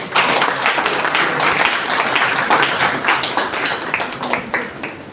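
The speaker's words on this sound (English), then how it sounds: "So please give a huge round of applause." Loud, dense applause from a workshop audience, steady and sustained throughout with no talking.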